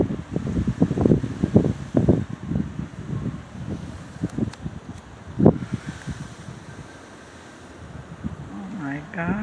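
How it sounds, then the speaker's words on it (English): Strong wind during a snowstorm in Milwaukee buffets the microphone in repeated loud gusts and rushes, easing off toward the end as a voice speaks briefly. "It's so windy."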